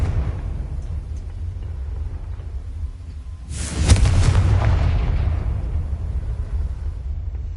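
A Confringo blasting spell explodes in Hogwarts Legacy, one sudden loud boom with a crackling burst that rolls away into a low rumble over steady game ambience.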